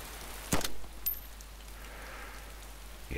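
Rain in the video game DayZ hisses softly as a faint, steady patter, broken by a couple of sharp thuds and clicks, with no voices.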